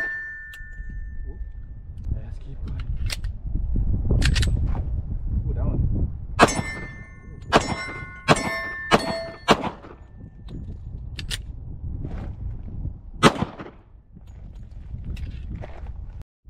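A Girsan 1911 .45 pistol fires during break-in, loud sharp shots spaced across the stretch, some in quicker pairs, with someone talking in between.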